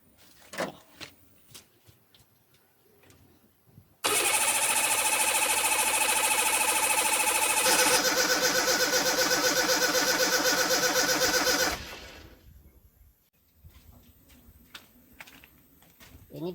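A homemade engine is started cold, a loud steady mechanical clatter that runs for several seconds and then cuts out, with quieter handling noises before and after.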